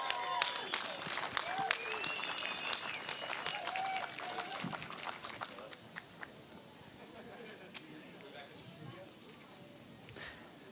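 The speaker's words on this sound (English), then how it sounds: "let's hear one last massive round of applause for our 4 finalists and our 2 winners" Audience at a longboard surfing contest finals at Bells Beach applauding the finalists and winners, dense clapping that fades somewhat toward the end, with an announcer talking over it.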